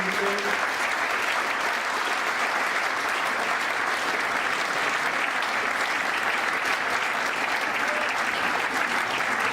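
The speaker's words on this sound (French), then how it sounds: "que je vous demande d'applaudir" A large audience at a French film and TV composers' awards ceremony applauds Jean Musy with steady, dense clapping that holds at an even level throughout, with no voices over it.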